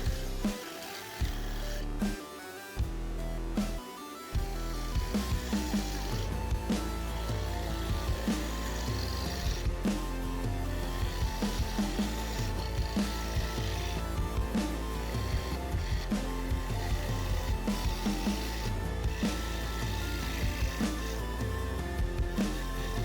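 A wooden salt bowl being shaped on a lathe, the outside turned with steady scraping and cutting under a constant motor drone, with a few brief pauses early before continuous rough chattering tool contact.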